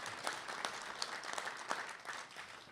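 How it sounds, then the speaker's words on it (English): A round of applause from union members at a mass membership meeting, uneven clapping with distinct individual claps standing out over a soft crowd bed, moderately quiet. "that's a round of applause"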